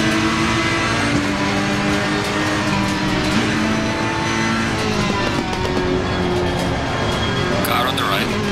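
Ferrari 458 race car engine in a racing video game at Silverstone, a steady loud drone with shifting revs throughout, heard under a voice talking.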